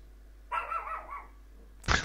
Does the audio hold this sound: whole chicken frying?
no